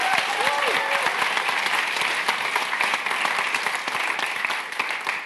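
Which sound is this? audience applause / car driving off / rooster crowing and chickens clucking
audience applause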